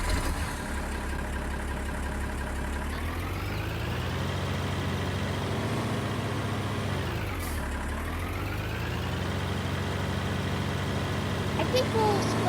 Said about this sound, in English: I'm gonna go hop in a tractor to spread the lime.